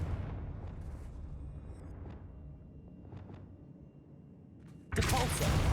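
A Confringo fire spell from the Hogwarts Legacy video game goes off as a sudden, loud explosive burst late in the clip, after several seconds of low, rumbling game ambience with a few faint blips.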